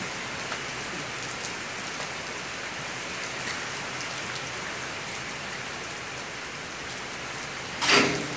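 Steady rain falls outdoors as a dense, even hiss of drops on surfaces, continuous and fairly loud, with a short louder burst near the end and no talking.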